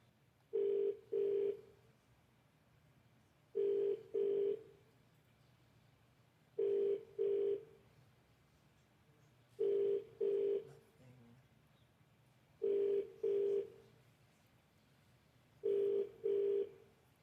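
A telephone call rings out through the earpiece, giving six evenly spaced double-burst ring tones about three seconds apart over a faint line hum, with no one speaking.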